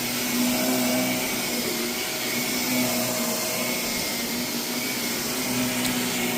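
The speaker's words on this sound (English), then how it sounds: "I like to vacuum over these high traffic areas myself" A vacuum cleaner drones steadily and loudly without pause over heavily soiled basement carpet, its motor whine constant throughout with no voices.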